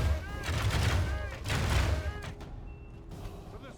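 Massed bows loosing volleys in a Medieval II: Total War battle, a dense rushing clatter of arrows with booming battle noise swelling twice and then thinning out to a quieter rumble.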